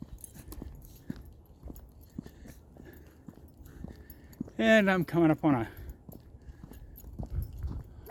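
A small dog behind a fence lets out a quick burst of three or four loud, close barks midway, with someone talking before and after over quiet outdoor street ambience.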